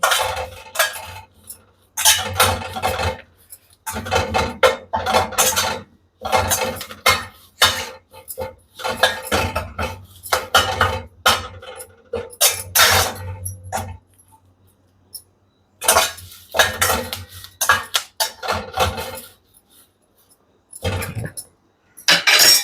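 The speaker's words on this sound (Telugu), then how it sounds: "కరివేపాకు కూడా పటపటలాడుతుందండి" Curry leaves, cornflakes and peanuts crackling and rattling as they are tossed together in a metal pan for a snack, coming in repeated close bursts of dry clatter separated by short pauses.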